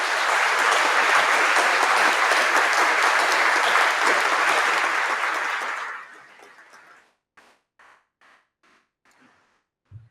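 Sustained applause from a university graduation ceremony audience fills the hall, honoring graduates' families and friends, then dies away around six seconds into scattered last claps and near silence.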